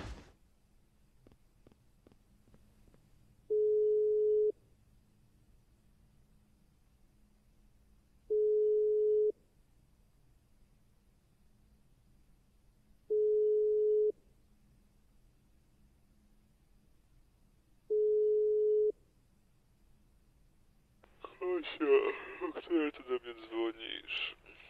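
A phone ringback tone sounds while calling Bartek in Minecraft, four evenly spaced long beeps about five seconds apart over quiet background, followed by a burst of voice-like chatter at the end.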